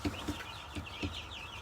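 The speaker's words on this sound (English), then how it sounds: "we did get some turkeys on the farm, little babies" Baby turkeys on a farm give soft, repeated peeping clucks, four short calls in a loose rhythm over a steady background hiss, heard close and alone.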